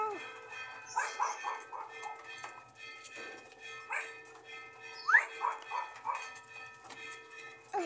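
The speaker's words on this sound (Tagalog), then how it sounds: "tumunog pa ang kampana!" A bell rings with sustained, layered tones under the busy sounds of dogs barking and voices nearby.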